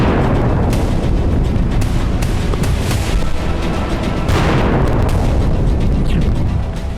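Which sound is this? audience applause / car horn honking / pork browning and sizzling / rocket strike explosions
rocket strike explosions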